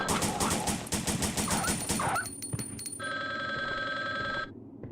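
Telephone ringing inside the Resident Evil video game, a steady electronic ring with bright sustained tones that starts partway through over busy game noise and thumping, then stops near the end.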